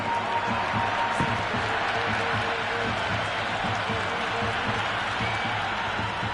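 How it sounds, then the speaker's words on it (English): A stadium crowd in an India versus Pakistan cricket test match video game keeps up a continuous roar of applause and cheering, with a commentator's voice faintly over it. "It's a great crowd, full of voice, and they're just enthralled in the play"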